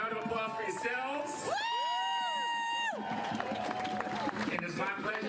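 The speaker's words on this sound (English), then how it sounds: "Round of applause for yourselves." A protest crowd at an anti-Trump, anti-wall rally in Washington DC cheering and applauding, with whoops and a sustained shout rising over the continuous roar of many people.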